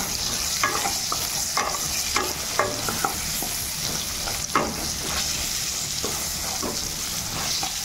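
Pointed gourd frying with turmeric and salt, a steady close sizzle broken by repeated scraping stirs of a spatula around the pan.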